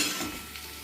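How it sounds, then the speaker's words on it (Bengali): Fried potatoes hiss softly in a pan in a brief, faint burst of sizzling with a light stir. "আলুগুলো ভাজা হয়ে গেছে"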